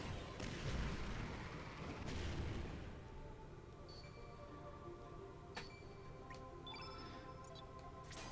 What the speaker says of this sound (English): Give you a fireball.